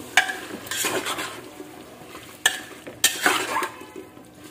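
Pav bhaji mixture stirred in a pan: a utensil scrapes and clinks against the metal at irregular intervals over a soft sizzle, with several sharper knocks standing out close by, no talking.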